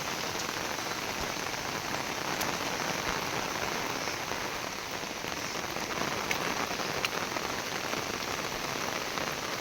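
Heavy rain pours down over paddy fields in the Konkan countryside, a loud, dense, unbroken roar of drops with no voices.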